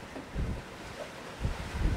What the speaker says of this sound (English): we've got wind, waves, seas, current, everything all against us